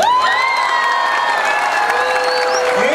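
A pageant audience at the Piel Canela Internacional contest in Huixtla cheers and claps for the winner, a loud continuous wash of crowd noise with high whoops and shouts rising over it.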